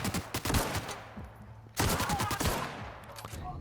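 Gunfire in The Outer Worlds: Spacer's Choice Edition on PS5, as bursts of rapid shots crackle in two loud volleys separated by a brief lull, with no talk over them.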